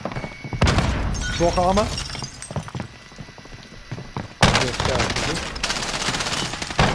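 Bursts of gunfire in Call of Duty Warzone, rattling shots and sharp cracks coming in clusters, loud and close, mixed with game effects and a player talking.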